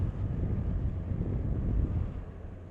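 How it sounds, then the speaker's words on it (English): Steady low wind roar buffeting the microphone while riding a BMW R1200RT motorcycle through Devon countryside, a continuous rumbling rush with no speech over it. "As you can tell, it's a bit windy."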